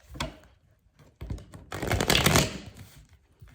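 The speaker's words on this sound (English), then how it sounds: "One more shuffle." Tarot cards being riffled and shuffled by hand in a quiet room, giving a short crisp burst, a pause, then a longer dense flurry of papery flapping that fades away.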